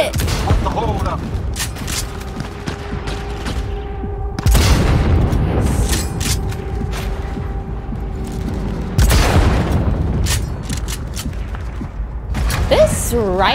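Rifle fire and heavy explosions in Cyberpunk 2077 on PS5, with repeated booming blasts and bursts of gunfire rolling through a busy game mix, interspersed with in-game voices.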